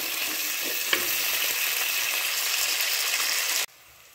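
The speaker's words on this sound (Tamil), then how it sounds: "அது கூட கட் பண்ண வெங்காயம், இது நல்லா பொன்னிறமாக வதக்கிக்கிங்க" Chopped onions sautéing in a pan until golden for a curry-leaf okra egg gravy, a steady loud sizzle with light stirring, cutting off abruptly near the end.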